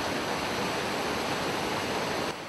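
Water from the Mutobo River rushing at a small-scale hydroelectric plant in rural Rwanda, a steady, dense roar of churning flow that stays loud and unbroken before easing slightly at the very end.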